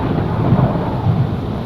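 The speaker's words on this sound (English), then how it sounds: "I know that I heard peals of thunder and other tones which nature utters only in her wildest moods." Thunderstorm in a Minecraft horror map inspired by Lovecraft's Dagon: a loud, low rumble of thunder rolls beneath gusting wind, heavy and continuous for a short stretch.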